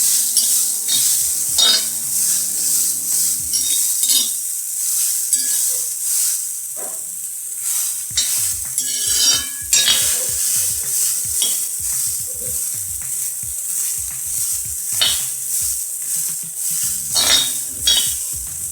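Fresh cowpeas roasting in a pan are stirred repeatedly with a utensil, giving rhythmic scraping and clinking over a steady dry sizzle and hiss, close and fairly loud, with no talking.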